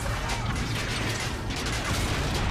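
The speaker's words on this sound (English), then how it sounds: "Of course, the latch." Latch mechanism in the sci-fi horror game Dead Space 2, heard as a dense, steady mechanical grinding and clanking with ratchet-like clicks, loud and continuous throughout.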